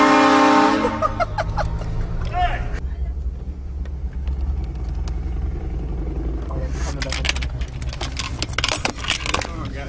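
A train-style air horn mounted on a vehicle blasts loudly at the start, followed by low engine rumble, further shorter horn blasts and people talking nearby.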